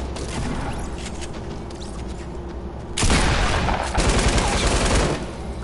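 Gunfire in Fortnite during a live-streamed match: dense rapid bursts of shots, loud and close, with a heavier volley of repeated blasts in the second half and no talking over it.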